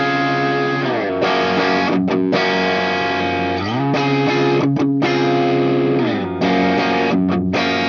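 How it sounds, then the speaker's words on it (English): Electric guitar played through a Mayflower overdrive pedal stacked on an always-on Mystery Brain preamp, loud and continuous with sustained distorted chords and brief gaps between strums, no talking. "That's the Mayflower you kicked on."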